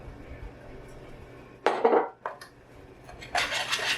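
A spoon scrapes and stirs through thick corn fritter batter as pancake mix is worked in, with two bursts of close, gritty mixing separated by a short pause.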